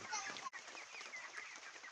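Broiler chickens clucking and murmuring together at close range on a poultry farm, a busy, steady flock chatter with a brief break partway through.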